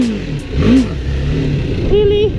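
A BMW G310GS motorcycle engine revs up sharply for a wheelie, with a quick rise and fall in pitch followed by another short rev, heard close up beneath someone talking.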